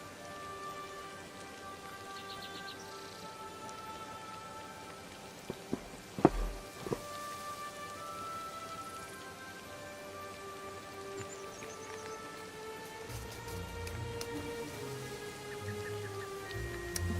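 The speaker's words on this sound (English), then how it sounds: "Come on, rain." Faint, steady rain falls in Disney Dreamlight Valley as a soft, even hiss with a couple of brief knocks partway through and quiet tones running underneath; no voices.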